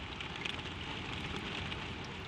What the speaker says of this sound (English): The rain falls soft on the roof